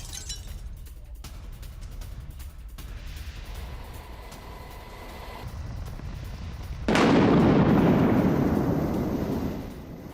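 A boat blows up in a US military strike at sea in news footage; after several seconds of low rumbling background, a sudden loud roaring blast surges in and fades over about three seconds.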